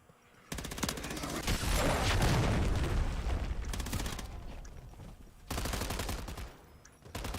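Rapid crackling bursts and a long rolling blast from a cruise missile strike in a Call of Duty Modern Warfare 3 Search and Destroy match, loud and dense, with sharp rattling volleys returning after a brief lull.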